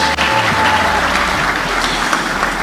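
An audience claps together at the close of a finalists' pitch presentation, a dense, steady burst of applause filling the room at close range with no voices over it.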